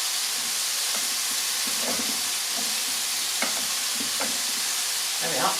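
Apple segments sizzle steadily in a hot frying pan for braised pork tenderloin, a continuous close crackling hiss with small pops and stirring clatter, no voices.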